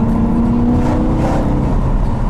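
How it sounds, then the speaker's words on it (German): A BMW E92 M3 is driven with the windows down, and its engine intake and exhaust give a loud, close, throaty drone that holds steady with a slight rising edge through the short burst. "Und hier Ansauggeräusch vorne, Sound hinten."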